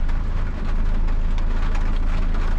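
Heavy rain falling outside a parked car, a dense, loud, unbroken hiss of drops drumming on the roof and glass from inside the vehicle, with no voices.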